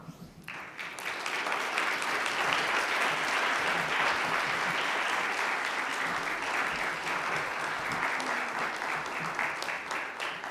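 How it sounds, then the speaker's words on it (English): Sustained applause from a keynote audience at an academic higher-education conference, rising quickly after a brief quiet start and holding steady and dense for about ten seconds, with faint voices underneath. "let's have a round of applause for Sandy Grande and her brilliance."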